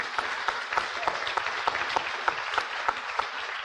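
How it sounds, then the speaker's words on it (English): A moderate round of applause rises from an audience at a food action plan celebration, a steady patter of many hands with a few sharper individual claps standing out. "So a round of applause again for our speakers."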